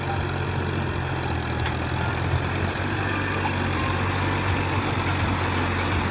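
A Mahindra 265 DI tractor pulls a six-tine plough through dry farmland, its engine a loud, steady low diesel drone throughout with no talk.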